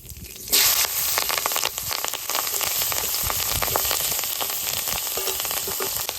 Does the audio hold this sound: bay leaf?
yes